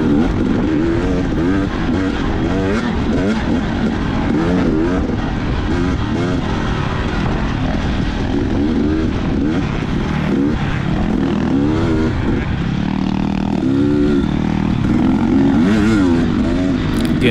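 A race vehicle's engine at full throttle during lap 1 of the Bootlegger GP off-road race, loud and close, revving in repeated rising and falling surges over a constant roar for the whole stretch, with no talking.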